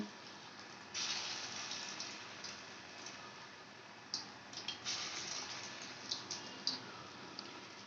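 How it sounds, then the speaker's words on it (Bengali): Small potato fritters fry in mustard oil with a steady sizzling hiss and bursts of louder crackle and spatter as more batter drops into the hot oil, with no talking. "এইভাবে ছোট ছোট করে তেলের মধ্যে বড়াগুলোকে আমি দিয়ে দেব সর্ষের তেলেই ভাজবো আমি বড়াটা"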